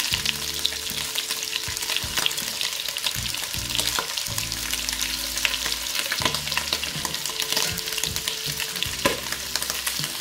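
Rabbit pieces frying and browning in butter for a mustard rabbit dish, a steady dense sizzle with occasional stirring scrapes and pops, close and continuous with no talk.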